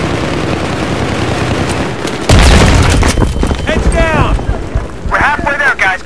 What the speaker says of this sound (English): Explosive bitches up, just laid some C4.